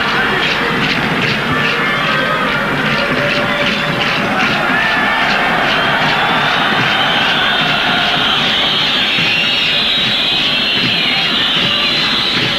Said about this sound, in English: Loud whistling in the crowd there.